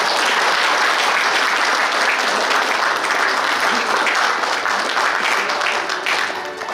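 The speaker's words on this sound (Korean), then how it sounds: "네, 큰 박수 부탁드립니다." Loud, continuous applause from a crowd at a Korean military academy alumni association inauguration ceremony, thick steady clapping throughout that eases slightly near the end.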